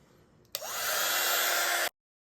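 A handheld heat gun switches on with a click and runs as a loud, steady, close blowing whoosh for over a second before cutting off abruptly, with no talking.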